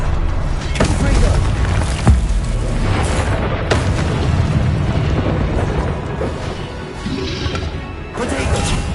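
Confringo fire spell blasts in Hogwarts Legacy, a run of loud crashing booms and smashing impacts in quick succession amid combat noise, with a voice calling spells over them.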